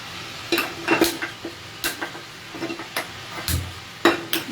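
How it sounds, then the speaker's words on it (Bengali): A small metal pan is set down on a kitchen stove amid a quiet run of separate clanks and knocks of cookware, spaced irregularly over a few seconds. "আমি এই ছোট্ট প্যানটা বসাচ্ছি"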